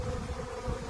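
Bees buzz steadily at a wild mountain honey nest on a cliff, a faint continuous drone with no talk.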